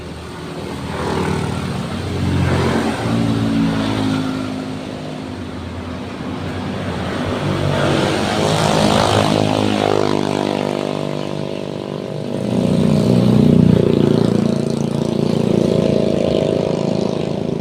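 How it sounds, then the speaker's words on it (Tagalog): Unbroken road traffic passes along a tree-lined road: engines rise and fall as vehicles go by, with a loud, close swell near the end and no talking. "Walang patid na sasakyan."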